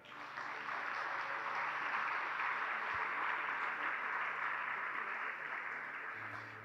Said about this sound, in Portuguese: vamos aplaudir Jesus, amados.